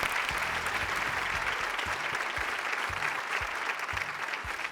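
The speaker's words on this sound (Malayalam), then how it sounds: "നല്ലൊരു കയ്യടി പ്ലീസ്." Steady, dense applause from a studio audience on a Malayalam TV game show, loud and continuous for several seconds with no talking.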